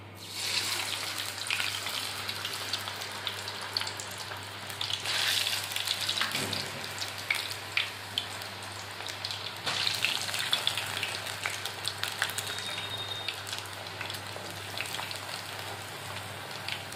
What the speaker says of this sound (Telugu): పొటాటో వేసుకుందాము.